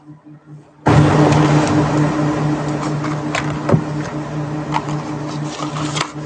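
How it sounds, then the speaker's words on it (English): An air conditioner switches on indoors during a late-night live stream, a sudden broadband whoosh that settles into a loud, constant roar with a low hum and occasional clicks. "I can't even hear myself think with that air conditioning on."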